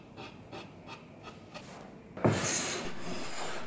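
A Chinese Suzhou-style hand plane smoothing a wooden round tabletop, making a series of rhythmic rasping strokes and then a louder, longer shaving stroke, close and alone.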